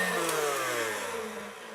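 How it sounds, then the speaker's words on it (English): An electric mixer whirs steadily close by, beating eggs with a continuous motor hum that fades slightly toward the end. "we're going to just put that in my mixer here, and we want to beat that up"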